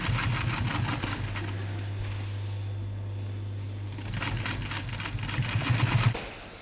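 A sewing machine runs steadily, stitching the side curtain of a vehicle hood to its rooftop, with a sustained motor hum that pauses briefly and then resumes in short stitching bursts, close and fairly loud.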